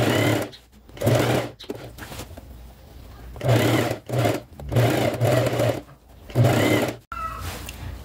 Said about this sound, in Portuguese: Agora eu vou lá costurar.